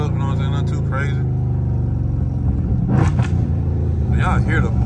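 Dodge Charger Scat Pack rumbling loudly in traffic with a steady low exhaust drone and a few sharp crackling pops, heard close from inside the car alongside bits of someone talking.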